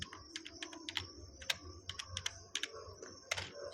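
Rapid, uneven keystrokes on a computer keyboard as a file name is typed, a run of sharp close clicks with short pauses over faint room hum.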